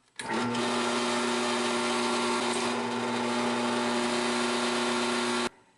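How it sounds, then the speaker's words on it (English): A drill press whirs loudly and steadily for about five seconds while drilling through a metal knife blade, a constant motorized hum with grinding noise, starting and stopping abruptly. "drill our hole now through actually the metal blade"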